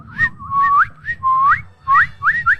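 A person whistles an imitation of a cardinal's call: a run of rising, slurred whistled notes in short bursts, loud and close, with a low rumble of background noise underneath.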